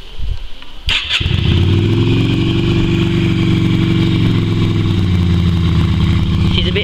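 Yamaha Virago XV250 motorcycle engine, started after six years of storage and primed through the air cleaner, catches after a brief click and runs a steady, loud, slightly rough idle throughout.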